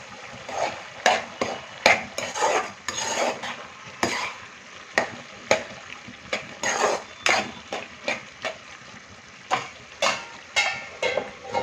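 Prawn and ridge gourd curry stirred and fried in oil: a steady sizzle under repeated sharp scrapes and clinks of a spoon against the pan, coming in quick irregular strokes, close and fairly loud, with no talking.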